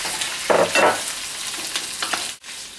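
Shrimp and onion stir-fry together in a pan for pancit canton, a steady hiss of frying with a few louder scraping stirs near the start and a brief drop in the sizzle toward the end.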